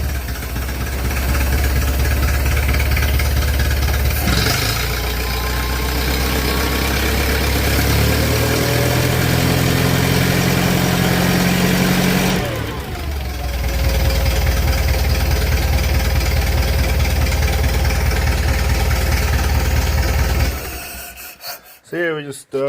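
Perkins 236 petrol engine on a Conveyancer TC6 forklift starts and idles with a steady rough rumble and rattle, revs briefly around the middle, then cuts off near the end with a few clunks.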